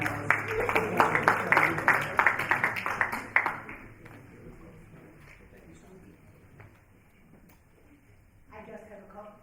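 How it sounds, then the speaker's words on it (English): Applause for the panelists at a discussion event: dense clapping for about three and a half seconds, then it cuts off and a quieter room follows with faint noise and a voice starting near the end. "Let's give a big round of applause for our panelists."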